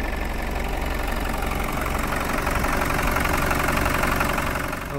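A 1993 Land Rover Defender 90 with the 200tdi diesel engine idles steadily, a loud, even clattering drone that holds unchanged throughout with no voices.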